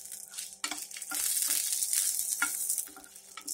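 Dried red chillies frying in a hot pan for karamani sundal give a steady, close sizzle, with light stirring scrapes coming through now and then.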